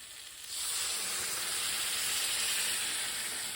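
Water hits hot sambar spices in a pan and sets off a sudden loud hiss and sizzle that starts just after a quiet moment and keeps up as a steady, close, broad rush.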